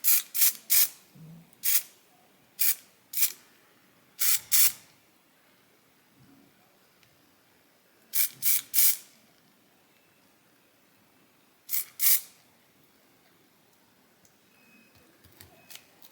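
Short hissing bursts from a spray can of primer paint coating a Mordheim gaming board tile, coming in irregular clusters of quick pulses with quiet pauses between, fairly close and with no talking.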